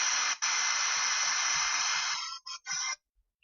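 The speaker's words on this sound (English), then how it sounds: "the sixth waveform is actually a noise waveform." A synthesizer's noise waveform gives a steady, static-like hiss resembling TV snow, held for a couple of seconds and then cut into two short bursts, loud and close with no talking.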